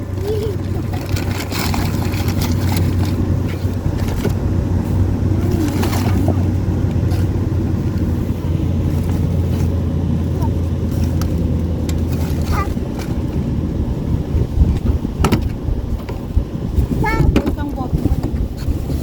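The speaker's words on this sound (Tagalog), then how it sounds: "Mahangin na, Dad? Mahangin." Steady wind rumble buffets the microphone throughout, with a low engine-like drone underneath and occasional voices in the background.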